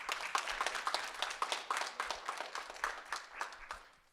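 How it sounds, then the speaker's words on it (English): Faint applause from a small group at a bluegrass event, with scattered hand claps that thin out and fade toward the end. "a round of applause."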